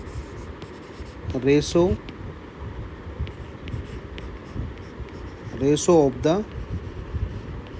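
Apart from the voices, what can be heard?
writing a definition by hand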